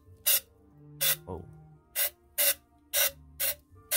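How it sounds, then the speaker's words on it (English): Compressed air blasts through a long extension tube into the throttle body of a Crown Victoria, seven short hissing bursts in a steady rhythm, loud and close, with a brief low hum between them. "I fashioned up this really long extension tube for the air compressor."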